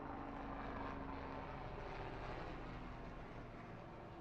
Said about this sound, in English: And there's another helicopter.